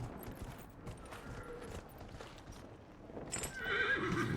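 A horse in the Dragon Age: Inquisition video game clops its hooves in a steady walking rhythm, then lets out a loud, close neigh near the end.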